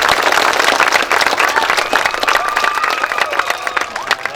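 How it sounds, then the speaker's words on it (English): An outdoor crowd at a school groundbreaking for Harrison Elementary breaks into sustained, dense applause, loud and close, with a few cheers mixed in. "Let's give them a round of applause."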